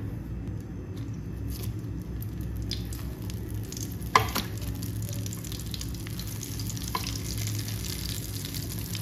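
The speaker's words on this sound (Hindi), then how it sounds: "हमने अच्छी तरह से भूनना है इसका कलर चेंज होने तक" Chana dal fries in ghee for halwa with a steady, close sizzle throughout, broken by one sharp clink of a spoon or pan around the middle and a fainter tap later.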